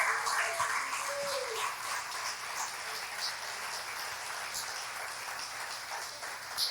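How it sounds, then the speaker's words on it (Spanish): Steady, broad crowd applause at a church service continues throughout, a dense hiss of many hands clapping at once, fairly loud and even with no pauses. "un aplauso fuerte al Señor"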